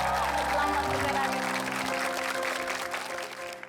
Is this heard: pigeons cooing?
no